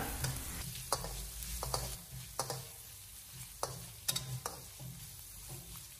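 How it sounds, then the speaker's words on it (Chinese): Carrot slices and pork stir-fried in a wok over the heat, with a soft steady sizzle under repeated sharp scrapes and clacks of the spatula against the pan at an uneven rhythm, close up with no voices. "再把胡萝卜片也放进来，然后再继续的开火给它翻炒几下。"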